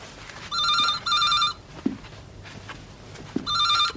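A telephone rings in two-burst trills, the double ring repeating after a pause with light knocks and room noise between rings.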